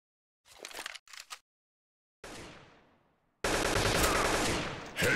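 Bursts of gunfire in a shooting video game: two short volleys early on, then a loud blast with a decaying tail, followed by sustained, dense rapid fire that runs to the end.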